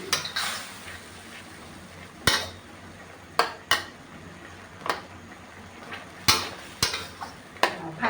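Metal spatula scraping and clanking against a pan while tomatoes and onion are stirred and tossed, sharp irregular knocks over a soft background hiss, no voices.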